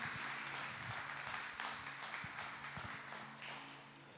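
A church congregation applauds during a service, a faint, dense patter of many hands clapping steadily and gradually tapering off.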